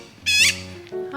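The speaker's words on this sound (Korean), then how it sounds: "여긴 까치가 정말 많아요. 도망가네. 소리 지르네." A magpie gives a single loud, harsh squawk close by, followed by quieter tonal calls and a brief second cry near the end.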